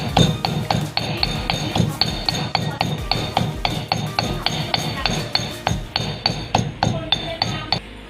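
Chili paste with shrimp paste and soaked red chilies is pounded by hand in a mortar, a steady run of sharp, evenly spaced pestle thuds with a ringing clink, close and loud throughout.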